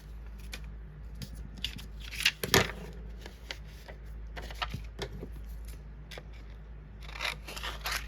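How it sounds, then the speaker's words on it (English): Scissors fussy-cut stamped paper sections for card making, with repeated close snips and paper rustles forming an irregular cutting rhythm across the clip, one louder crunch near the middle, and no talking. "So when I fussy cut, first I cut out sections."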